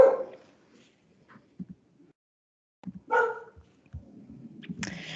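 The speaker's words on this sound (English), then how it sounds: "my dog's going crazy." A dog barks indoors in a few short, sharp bursts separated by quiet gaps, with faint whimpering between barks.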